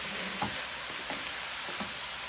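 Spam fried rice with soy sauce sizzles in a Power XL cooker, a steady loud hiss with a few soft thuds as it is stirred and mixed; no voices.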